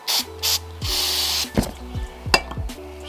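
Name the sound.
spraying brake cleaner onto a rod bearing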